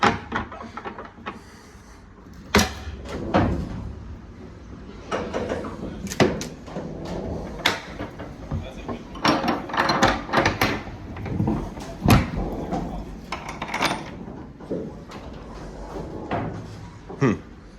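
Repeated knocks and thumps of cabinet doors being opened and shut at a farm auction, spread across the clip, with some faint background noise between the bumps.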